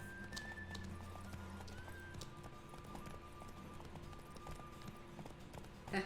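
Horse galloping in The Witcher 3 video game, a steady run of rhythmic hoofbeats at close range with faint game ambience beneath and no talk over it.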